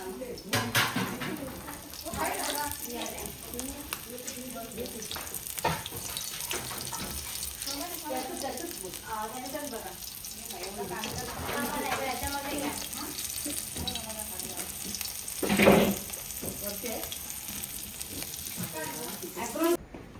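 Prawns frying in a restaurant kitchen, a continuous sizzle with clattering and running-water sounds, overlaid by people talking nearby.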